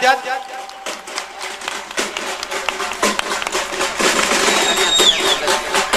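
An audience at a lamp-lighting ceremony during a felicitation event bursts into scattered clapping while an announcer talks loudly over it on a public address system.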